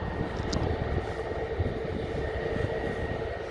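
Aircraft GUZHB taxis out onto a runway intersection on a cold 2°C day, its engines a steady moderate whine and rumble heard from some distance, with no talk over it.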